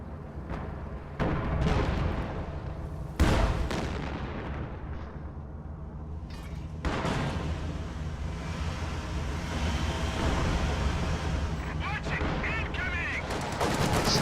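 Rocket artillery fire booms through a World War II video game battle, with repeated loud blasts and launches over a constant rumble of tank combat and gunfire, while a voice comments over the action.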